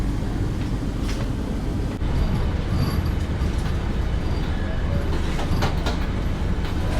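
Riding aboard the Delhi–Khajuraho Vande Bharat Express as it passes through a small railway station on the loop line: a continuous loud rumble with steady wheel clatter and faint mechanical squeaks.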